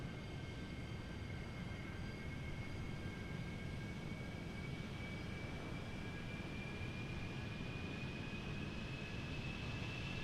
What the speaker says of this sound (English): There comes a Concorde.